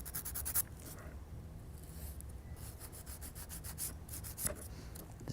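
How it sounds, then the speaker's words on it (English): A nail file scrapes across a dip powder nail in short, faint rasping strokes, brief bursts with pauses between them, close up and quiet. "Just go ahead and file them."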